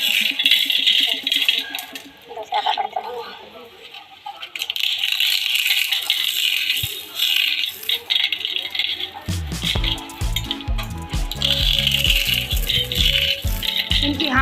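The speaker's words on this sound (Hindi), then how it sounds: "इनकी हाथों से ही तोड़ने से कितनी अच्छी आवाज़ आ रही है" Crispy, thin homemade papads snapped and broken by hand, giving dry crackling rattles that come in bursts, joined later by denser, louder crunching.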